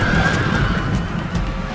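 Cavalry horses in Rome: Total War let out a loud, close whinny that rises and falls over nearly two seconds, with faint hoof clatter underneath and no talking.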